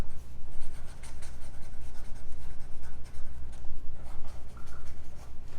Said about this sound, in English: We can do some fast writing.